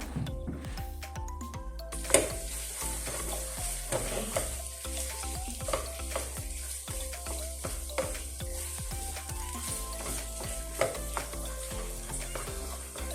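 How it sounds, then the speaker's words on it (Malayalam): A spoon stirs masala with potato and carrot in a pan, giving a continuous frying hiss with frequent irregular scrapes and clatters, close and steady throughout, with no one talking. "ഇനി നമ്മളുടെ മസാലയും അതുപോലെ കിഴങ്ങും ക്യാരറ്റും എല്ലാം നല്ലപോലെ ഒന്ന് മിക്സ് ചെയ്തെടുക്കണം."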